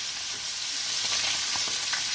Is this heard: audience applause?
no